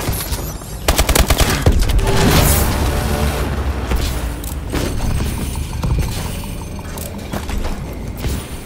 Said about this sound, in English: Friendly missile strikes incoming.